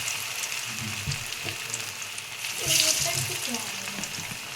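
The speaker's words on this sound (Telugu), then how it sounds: "ఆయిల్ హీట్ అయ్యాక ఇలా ఒక్కొక్క చాప ముక్క వేసుకోవాలి" Fish pieces dropped one by one into hot oil, a steady crackling sizzle that swells briefly as a piece goes in, with a few soft knocks underneath.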